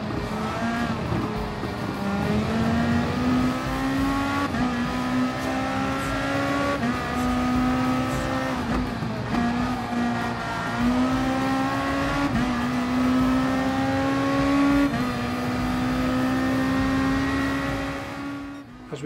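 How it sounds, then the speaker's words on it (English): A race car engine in GT Sport on PS4 drones loudly and continuously as the car slides around a corner, its pitch repeatedly climbing and dipping through gear changes, with no talking. "I'm hanging it out a little bit there, car sliding around"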